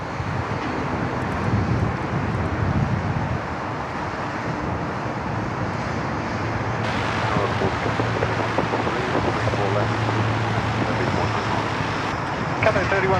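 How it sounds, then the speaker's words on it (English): Airbus A380 departing Sydney Airport, a broad steady roar of jet engines lasting throughout, loud and continuous with a low rumble that swells midway, no talking over it. "Another fine departure, another fine A380 departure here at SydSquad."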